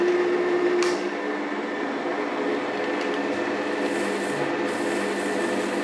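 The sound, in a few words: wood lathe switched on and running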